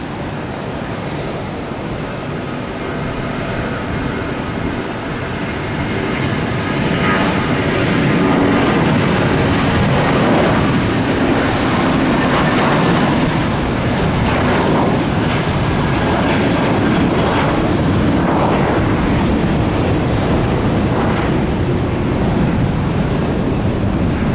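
An airliner departs from Tampa airport, a broad, steady engine roar heard from a distance that slowly builds and holds for the whole stretch, with no talk.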